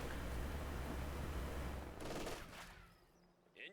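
An MG42 machine gun in Company of Heroes 2 fires a dense, sustained burst for about two seconds. Then it cuts off, leaving fainter scattered battle noise and a small late pop.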